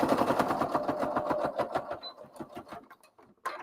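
A sewing machine stitches a backstitch on a tabard hem with a fast, rhythmic mechanical chatter up close, then slows and stops, followed by a few faint clicks.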